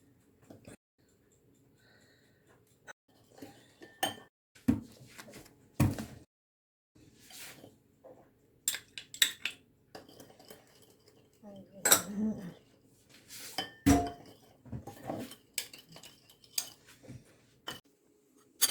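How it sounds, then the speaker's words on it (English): Utensil clinks and scrapes against a bowl as marinade for baked dorado fish is mixed: pomegranate molasses, vinegar and cooking oil. Irregular close knocks and clatters come in bursts throughout, with no talk. "Mix the ingredients together well."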